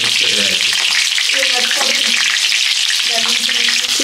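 Brinjal masala (badanekayi ennegayi, North Karnataka style) sizzles and fries in a pan on a low flame, with a loud, continuous crackling hiss close up and a faint voice underneath.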